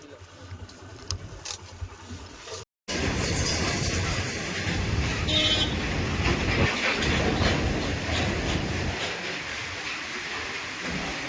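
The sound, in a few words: train passing at a level crossing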